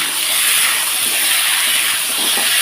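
Bata fish is stirred with ground spices in a very hot pan, giving a loud, continuous hiss of sizzling oil that stays even and close for the whole stretch, with no voices.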